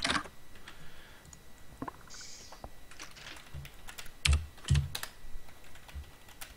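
Keys clatter on a computer keyboard in irregular bursts, close and fairly loud, with a few sharper clacks near the end and quiet room noise between strokes.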